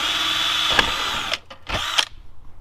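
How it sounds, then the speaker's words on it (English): A power drill whines at high speed while boring a hole during a pre fuel filter install on a Ford Ranger, then stops briefly and revs up again in short bursts. "So I drill this hole in that."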